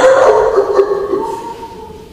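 A man imitates a dog barking at the door with a few short voiced yips and barks, close and loud, tapering into quieter vocal sounds.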